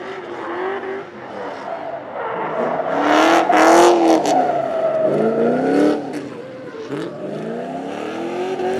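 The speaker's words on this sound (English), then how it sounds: "This car sounds like it's got a big old V8 in it." V8-engined drift cars rev hard during a tandem drift beside a Nissan 350Z, engines swelling and sweeping through the rev range with bursts of tire squeal, growing loud and close before easing off.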